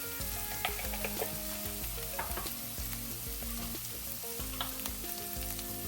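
Ginger garlic paste and turmeric sizzle and fry in hot oil in a pan, a steady crackling hiss with scattered pops that runs throughout under quiet background music.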